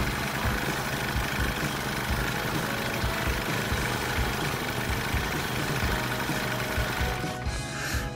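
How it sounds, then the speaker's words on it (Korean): A brush cutter's small two-stroke engine idles steadily with its fuel hose pulled from the tank, running on the petrol left in the line and carburettor. The close, even drone holds alone, with a brief change near the end. "지동을 유지하고 있으면 연료 호스하고 카브레타에 남아있는 휘발유를 모두 태우고 한 1분에서 2분 정도 지나면 지동이 꺼집니다."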